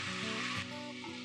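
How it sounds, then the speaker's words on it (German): Pork ribs fry hard in hot oil, a loud, dense sizzle with constant spattering close up, and steady tonal music runs underneath. "Das Öl spritzt ganz heftig."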